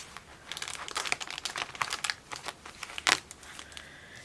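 Plastic folder being slid into a cash binder, a run of crisp crinkling and crackling rustles with a sharper snap near the end, close and fairly quiet.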